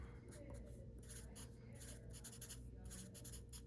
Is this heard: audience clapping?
no